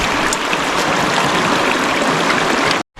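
Cold stream water rushing steadily while pots are washed outdoors in the Lake District in harsh weather, a close, constant splashing flow that cuts off abruptly at the end.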